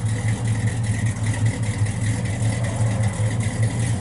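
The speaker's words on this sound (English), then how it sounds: "Sounds real good out the exhaust." A 1966 Plymouth Satellite with a 383 V8 idles steadily through its exhaust, a low, even rumble that holds close and constant on a hot day, with no voices over it.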